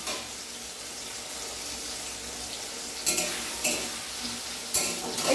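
Ground spices frying in a pan for homemade biryani, a steady soft sizzle running throughout with a few louder bursts of stirring or scraping near the end.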